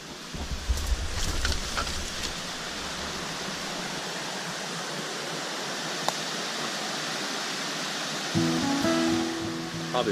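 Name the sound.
flowing creek water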